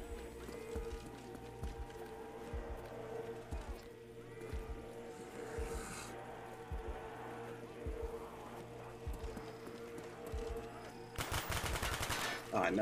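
Rapid gunfire bursts from a zombies video game played split-screen, repeated shots running throughout over a steady game soundtrack, with a dense louder burst near the end.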